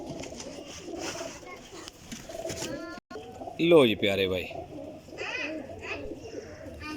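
Flying pigeons coo in low throaty bursts close by while someone speaks, with flapping and shuffling noises in between.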